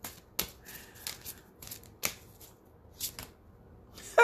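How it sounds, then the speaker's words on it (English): A deck of cards is shuffled and cards are pulled out, giving several quick, close riffling snaps spaced irregularly over a few seconds in an otherwise quiet room. "I just want to pull a challenge card for you besides patience"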